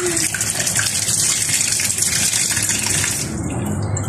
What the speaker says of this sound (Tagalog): Lagyan pala natin ng tubig.